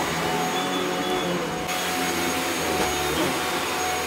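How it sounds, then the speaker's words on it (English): A vacuum cleaner hoovers indoors with a loud, steady motor drone and airflow hiss that fills the whole stretch, its pitch shifting slightly partway through as the nozzle moves. "Are you enjoying your hoovering?"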